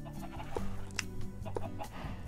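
Chickens cluck in Minecraft Sky Factory 3, several short scattered clucks and squawks over a low background hum, fairly close and moderately loud.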